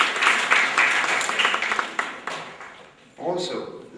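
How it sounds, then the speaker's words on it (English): An audience applauds students representing schools at a formal event, a few seconds of clapping that fades as a host's voice speaks over and after it. "can you give a round of applause for all the students"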